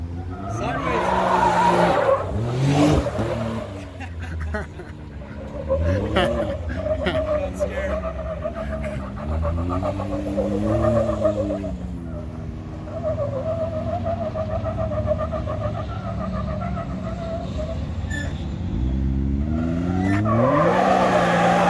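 Off-road tires on a 2020 Can-Am Maverick X3 X RC Turbo RR skid and squeal continuously beneath a droning engine, loud and close, while people talk and shout over it throughout.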